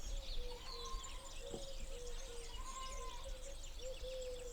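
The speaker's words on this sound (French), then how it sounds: "Les oiseaux" Soft birdsong outdoors in green countryside: a few distant chirps and high twittering over a quiet background, with a low steady tonal call drifting in and out.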